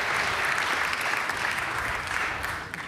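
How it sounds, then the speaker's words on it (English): Audience clapping at a conference poster session, steady dense applause from a room of people that stays loud and tapers slightly at the close. "thanks for the applause"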